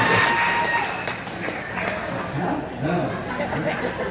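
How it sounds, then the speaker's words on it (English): Church congregation clapping at a Harvesters gathering, a dense, continuous patter of many hands with cheers and laughter mixed in, fairly loud and close, and voices talking over it. "You can clap. Go ahead. Start clapping."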